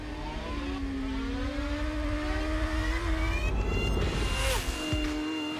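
A brand-new rear-wheel-drive Subaru is driven hard on closed Isle of Man public roads, its engine droning steadily and rising in pitch as it accelerates, then dropping sharply near the end.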